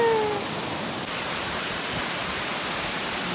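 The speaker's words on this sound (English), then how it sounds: "More waterfall." A waterfall pours out a dense, steady roar of rushing water. The sound is broad and unbroken, nearby and fairly loud, with no voices over it.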